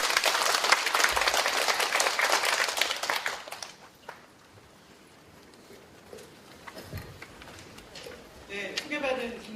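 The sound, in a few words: audience applause welcoming a speaker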